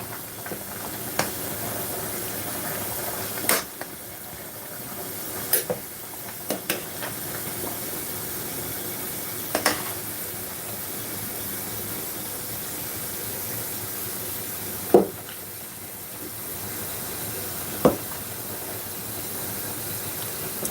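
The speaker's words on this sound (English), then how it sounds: "This thing is bubbling now, so I need to give him a stir." A large pot of food simmering during batch cooking for an event, a steady soft hiss and bubbling throughout with occasional sharp clinks and knocks from stirring, close and continuous.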